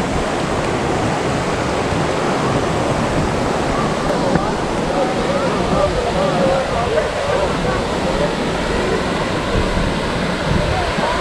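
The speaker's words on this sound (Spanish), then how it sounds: "Una hermosa cascada" A waterfall in Córdoba, Argentina, heard as a steady, dense roar of rushing water that stays level throughout, with faint voices beneath it.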